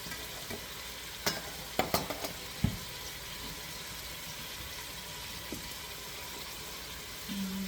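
Onions go into olive oil in a pan for beef stew, a quiet steady sizzle broken by a few sharp clatters and stirring knocks, then a faint tone near the end; no one speaks.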